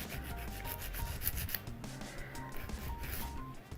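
A regular nail file scrapes back and forth along the edges of gel nail tips in quick, close, quiet strokes, a soft, steady rasping with no voices.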